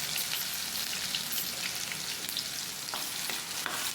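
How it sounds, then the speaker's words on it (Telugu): Ground onion frying in hot oil while being stirred, giving a steady, close crackling sizzle with faint scraping throughout and no voices. "ఇలా తిప్పుకుంటూ ఫ్రై చేసుకోవాలండి."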